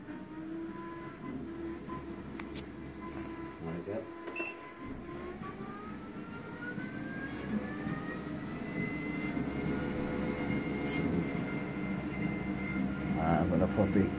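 A Reebok treadmill runs close by and speeds up: a steady motor hum with a whine that climbs in pitch and settles higher, over a low rumble of the belt, growing slightly louder.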